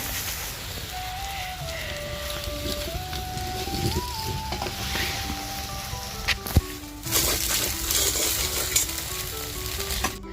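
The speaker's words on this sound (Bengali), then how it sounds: "যেখানে গোলা রুটি হচ্ছে" Gola ruti, a thin batter bread, sizzles and fries steadily in a pan, with occasional scraping and stirring clicks and a louder burst of sizzle midway through.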